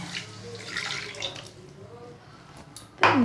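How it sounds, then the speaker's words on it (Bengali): Water is poured over green chillies as they are washed, a steady splashing wash that fades midway, then a sharp closer gush of running water bursts in at the end. "এই যে এটাকে ধুয়ে একটু জল দিয়ে দিই"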